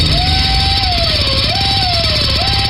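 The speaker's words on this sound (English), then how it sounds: "Does your trip to the dentist office sound like this?" Dental drill sound effect used in a radio ad for a dentist office: a loud, steady high-pitched whine with a wavering tone over a constant mechanical hum, running continuously with no talk.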